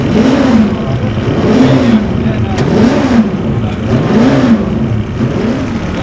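A 250cc Honda racing motorcycle engine drones loudly at the Senior Classic TT, its pitch rising and falling in rhythmic revving sweeps, close and continuous.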